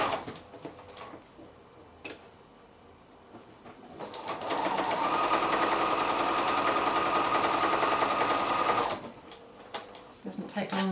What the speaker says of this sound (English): So I'm just sewing this next row together now so that we'll have our 3 rows together